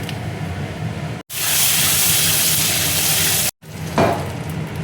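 Panch phoron and mustard seeds hit hot oil for masoor dal, giving a loud, close burst of sizzling that runs steadily for a couple of seconds. It cuts off sharply, followed by a quieter crackle with a brief clatter.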